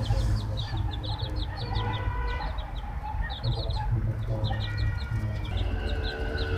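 Chicks cheep in high, rapid bursts over a steady bed of hens clucking and murmuring close by, a continuous busy chorus of young and adult chickens with no voices.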